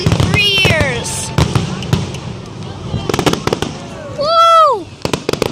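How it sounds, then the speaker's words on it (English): Fireworks bursting at a town display in Dobbs Ferry, a string of sharp booms and crackles with whistling rising shells, while excited spectators cheer and talk close by. "First fireworks in 3 years."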